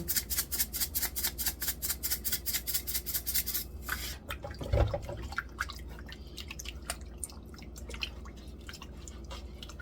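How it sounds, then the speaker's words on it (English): Frozen, already scaled fish rinsed in salt water: rapid rhythmic splashing and sloshing for about four seconds, then a softer stretch of wet rubbing and trickling, close and moderately loud. "I'm going to clean it in salt water."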